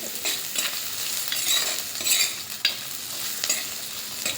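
Sliced onion and green chillies fry in a pan for a Kerala raw banana curry, a close sizzle broken by repeated scraping stirs and small clatters of the spoon.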